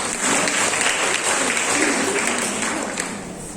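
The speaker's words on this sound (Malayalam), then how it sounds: "നിറഞ്ഞ കൈയടി ഒരിക്കൽ കൂടി ഇവർക്ക് കൊടുക്കാം." Steady, full applause from an audience at a quiz competition fills the whole stretch, a dense wash of clapping that tapers slightly toward the end.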